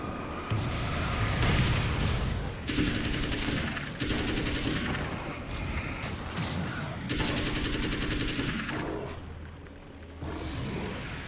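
Rapid bursts of gunfire from a gun in the video game Alan Wake's American Nightmare, loud and sustained, with booming shots and echoes, alone.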